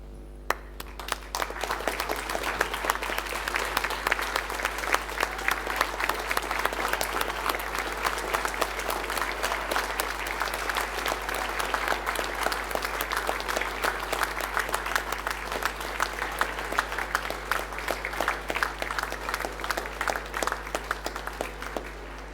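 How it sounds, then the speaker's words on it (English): At a University of Newcastle graduation ceremony, a large standing audience applauds the graduates in a long, sustained, even wash of clapping over a low steady hum, without a break for over twenty seconds. "join with me in applauding the wonderful achievement of our graduates"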